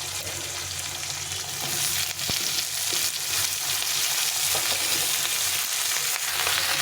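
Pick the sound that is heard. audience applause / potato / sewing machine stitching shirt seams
potato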